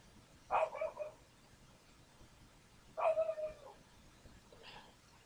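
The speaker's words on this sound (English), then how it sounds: "I don't know what he's barking at" A dog lets out two separate bursts of yipping barks, a few seconds apart and fairly close, followed by a fainter third bark.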